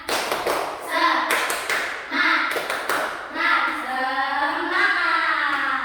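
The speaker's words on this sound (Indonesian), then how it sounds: "Kurang semangat, sekali lagi ya." Students in a classroom perform a rhythmic spirit clap, with sharp clustered hand claps in a patterned beat alongside children's voices chanting and speaking loudly nearby.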